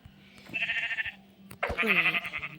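Sheep on a farm in the Minecraft video game bleat twice, the second call longer and louder, clear and close with little else around.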